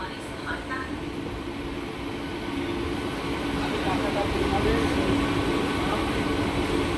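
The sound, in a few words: local train leaving Shantipur Junction station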